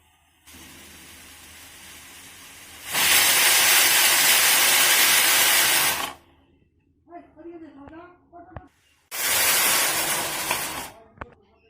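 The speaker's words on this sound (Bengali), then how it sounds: "এবার প্রেসারে দিয়ে আমি সিটি মেরে নেব।" A pressure cooker holding rajma, peas and chana dal, soaked overnight, lets out two long, loud, hissing steam whistles about three seconds each, with a short stretch of talking in the quiet gap between them.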